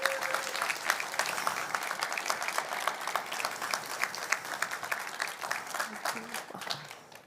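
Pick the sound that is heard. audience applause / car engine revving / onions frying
audience applause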